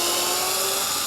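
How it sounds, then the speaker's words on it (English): Cordless power driver spinning out T15 Torx screws during an accessory install on a Can-Am Spyder, a steady close whine held for about a second without a break. "We're going to take these two screws out."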